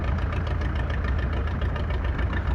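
A steady, low red tractor engine idles continuously at close range at a tractor show, a rough mechanical rumble with no breaks and no voices.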